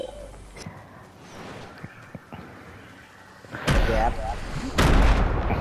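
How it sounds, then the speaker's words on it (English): Grenade blasts in Fortnite: after a stretch of quieter game rumble and small thuds, two heavy, booming explosions erupt close by, a second apart, with a rolling tail after each. "Who threw that grenade?"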